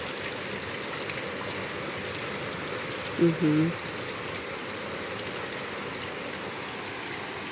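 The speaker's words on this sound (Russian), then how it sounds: "Но ливень, похоже, стихает." A heavy rain shower easing off outdoors, with thunder earlier: a steady, even hiss of falling rain and dripping water throughout, and a brief murmur from a voice partway through.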